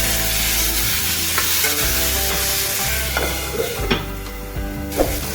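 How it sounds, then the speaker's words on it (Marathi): Tomato and onion fry in a pan, a loud close sizzle running throughout with repeated scraping and knocking of the spatula as they are stirred, alone without speech. "पाणी सुटेपर्यंत फ्राय करून घेऊया"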